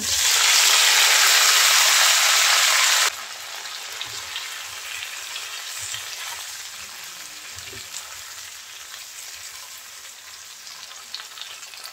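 Chopped tomatoes hit hot oil with garlic already fried until reddish-brown: a loud, dense hiss burst for the first three seconds, then settling to a steadier, quieter sizzle with scattered pops.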